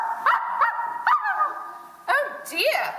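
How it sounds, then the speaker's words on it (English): A small dog gives several short barks and yips at close range in a family film scene, with voices talking over and between the barks. "Don't interrupt when someone's barking."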